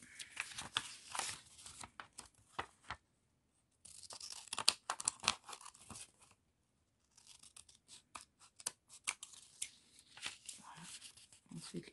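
Quiet, close snipping and rustling as a paper sewing pattern is cut, in irregular bursts separated by short pauses of silence.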